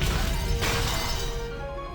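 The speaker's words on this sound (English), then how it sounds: "The mansion was filled with the sounds of knocking, crushing, smashing, and chewing." Knocking and smashing rings through the mansion in the Umineko visual novel, a loud crashing impact with a sustained ringing tone and rumble that slowly fades toward the end.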